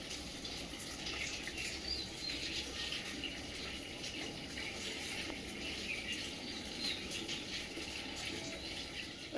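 A water pump running with water pouring out in a steady, faint outdoor rush, with soft background sounds and no talking.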